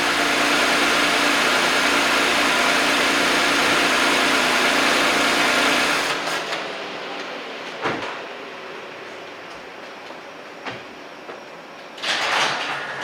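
A Toyota 2GR-FKS engine in a 2018 Camry idles as a loud, steady close hum, then is switched off and falls quiet. A few sharp clunks and knocks follow in the stillness.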